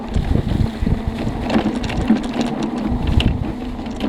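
A turbo 1000 off-road vehicle runs fast across Death Valley terrain, with a constant engine drone under heavy, fluctuating wind buffeting against the microphone.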